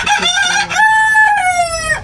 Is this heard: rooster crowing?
yes